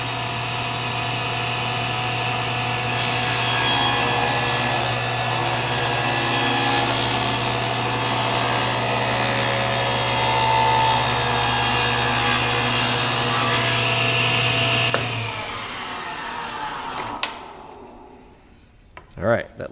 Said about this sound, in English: I'm going to go ahead and cut my other pieces now. Dado on that side.